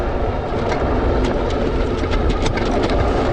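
A Jansno X50 electric bike with a 750 watt motor and 20 by 4 inch knobby tires rides a trail, giving a steady, loud broadband rumble of tires and drivetrain with scattered rattling clicks throughout, no voices.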